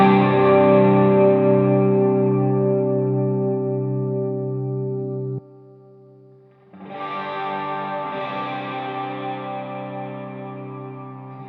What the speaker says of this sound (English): you're gonna hear only the delays and reverb of your signal